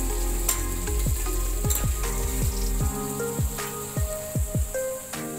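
Biryani masala, garam masala powder and ginger-garlic paste hit hot oil in a pan for Hyderabadi biryani, giving a steady loud sizzle with repeated clinks and scrapes of a spoon stirring throughout.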